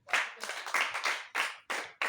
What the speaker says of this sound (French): Applaudis pour le Seigneur.